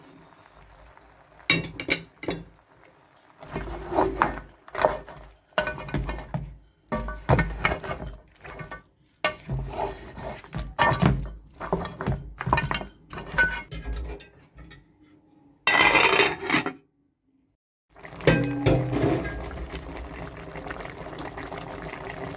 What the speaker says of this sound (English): adding the blended tomatoes and the pepper. Okay, I just add it now. I will stir it.